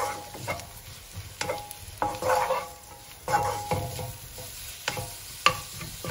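Garlic and grated garlic frying in a pan as it is stirred, with a low sizzle broken by several close, scraping stir bursts at an irregular pace and no talking.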